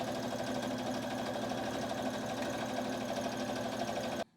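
A sewing machine running a straight stitch on jersey fabric, with a steady fast mechanical whirring and rhythmic needle clatter, close and even in level, stopping abruptly at the very end.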